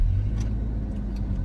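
A Toyota Innova Reborn 2.0 petrol with manual transmission on a test drive gives a brief, smooth, low engine rumble, heard steadily from inside the car with no talking.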